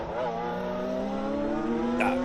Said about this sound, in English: You can hear the superchargers whining away on the Mini Cooper S's, and Paul Bryden still holds at bay